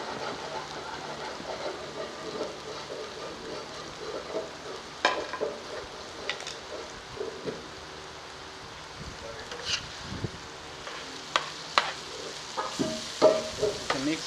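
Goat brain stir-fries in masala in a pan, a soft steady sizzle broken by scattered clinks and scrapes of stirring, with no talk.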